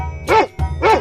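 A cartoonish dog bark from an animal slide video game: two short, bright yelps about half a second apart over a steady low game-music hum.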